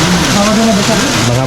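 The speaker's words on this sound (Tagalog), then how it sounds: "umuulan po ngayon dito" Rain falls at a swimming spot on a holiday outing, a steady close patter under several overlapping voices humming and chatting throughout.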